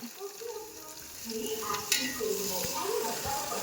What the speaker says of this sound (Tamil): ஃபர்ஸ்ட் வெங்காயத்தை கொட்டிக்கிறணும்